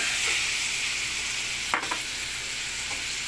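Chicken liver sizzling in a frying pan as pancit canton is cooked, a constant close hiss with a brief stirring clatter in the middle.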